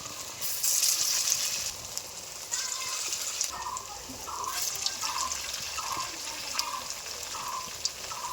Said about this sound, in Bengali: আমি অল্প অল্প জাল দিয়ে এগুলো ভেজে নিচ্ছি